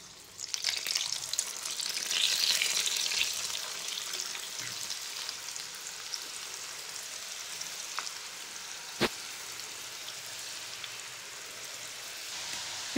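Ragi (finger millet) murukku dough pressed into hot oil, frying with a steady, fairly loud hiss that thins out over time, with an occasional sharp tap.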